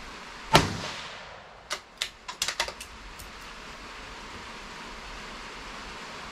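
A 17 HMR rifle with a clean barrel fires a single sharp, loud crack, then a quick cluster of lighter clicks and taps follows before the scene falls to quiet outdoor hiss.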